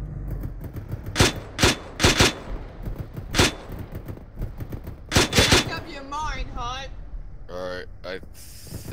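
An M2 machine gun in Arma 3 fires loud, sharp bursts, single cracks and quick doubles spaced irregularly through the first half, before fading behind radio-style voices talking near the end.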